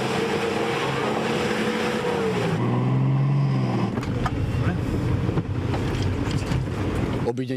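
An off-road car crawls through shallow mud on a rough course, its engine droning loudly and varying in pitch, with splashing and knocking from the terrain and a voice talking over part of it.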